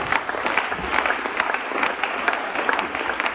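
A church congregation claps together in dense, sustained applause for the Lord, a steady wash of many hands filling the room with a faint murmur of voices underneath.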